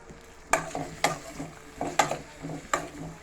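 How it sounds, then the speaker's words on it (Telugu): Tomatoes frying in oil in a pan for a red chilli chutney, with a soft sizzle and sharp, regular scraping stir strokes, close up. "ఆయిల్ వేసుకొని టమాటాలు వేసుకున్నాం"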